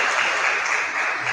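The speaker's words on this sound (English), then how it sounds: "Please clap for yourselves." Women's career advancement conference audience clapping for themselves, a full, steady burst of applause filling the hall without pause.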